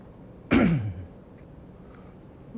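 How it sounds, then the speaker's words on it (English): A single throat clearing, close and fairly loud, with a sharp onset and a short rasping tail, then near quiet. "Excuse me while I clear my throat."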